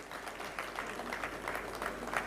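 Moderate audience applause at a chartered accountants' institute event, a steady, somewhat distant patter of many hands clapping without a break.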